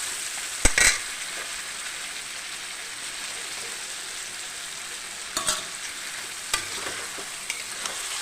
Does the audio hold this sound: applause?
no